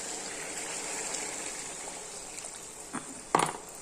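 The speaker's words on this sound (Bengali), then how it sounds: "এখন ঝোল দিয়ে দিব।" Broth poured into spiced potatoes fried in a pan for a curry gives a steady, soft liquid rush, followed by a couple of brief splashes and clatters near the end.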